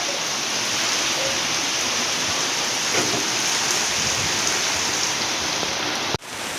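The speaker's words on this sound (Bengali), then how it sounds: "বৃষ্টি চলে এসছে দেখো বৃষ্টি পড়ছে কীরকম বৃষ্টি শুরু হয়ে গেল" Heavy rain falls steadily in a low-pressure storm, a close, dense, even downpour that continues throughout before breaking off abruptly near the end and quickly resuming.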